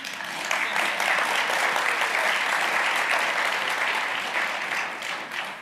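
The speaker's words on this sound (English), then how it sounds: "that clap was started by my husband" An evening lecture audience on civility and liberal democracy breaks into sustained applause, a dense wash of many clapping hands that swells quickly, holds steady, then gently tapers.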